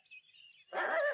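A dog barks in the open air, a burst of loud, dense yelping that erupts suddenly after a faint, thin high whine, filling the last half second.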